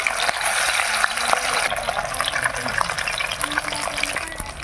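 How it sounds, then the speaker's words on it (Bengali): Rohu fish frying in hot mustard oil over an outdoor fire, a steady, loud sizzle and hiss that carries on without a break, with no talking. "তেল গরম হয়ে গেছে মাছ তেলের মধ্যে দিয়ে দিলাম মাছগুলো ভেজে নিচ্ছি"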